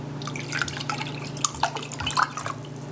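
Sparkling water poured over herbal simple syrup, with splashy, dripping liquid sounds and small fizzy bursts, close and moderately loud.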